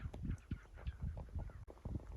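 Game birds flush wild from a slope in Hells Canyon, giving a burst of rapid, clucking and honking calls that carry from a moderate distance with no talk over them.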